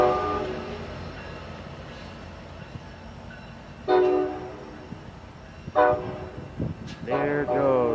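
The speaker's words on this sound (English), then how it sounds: "There goes eastbound Amtrak." An eastbound Amtrak train rolls past at night in West Sacramento with a low steady rumble, its horn sounding in several loud blasts, short then longer, with a brief voice near the end.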